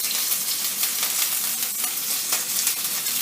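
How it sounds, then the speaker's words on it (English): Oil crackles and sizzles steadily in a hot pan, a bright, continuous frying hiss with small pops throughout. "The sizzle is nice."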